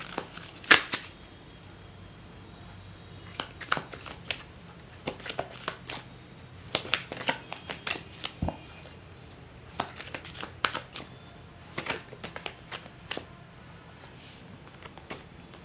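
A tarot deck is shuffled by hand in a quiet room, with soft, irregular papery riffles and flicks that come in short bursts.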